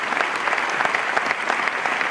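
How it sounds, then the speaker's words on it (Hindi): An audience at an Amway Diamond celebration event claps steadily, a dense, loud round of applause filling the hall with no voices over it. "जोरदार ताली दोस्तों।"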